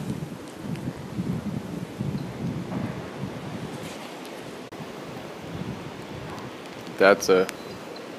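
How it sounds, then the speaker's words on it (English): Wind gusts during Hurricane Irma, a steady roaring rush rising and falling in strength, with a person speaking briefly near the end. "a gust blowing through there"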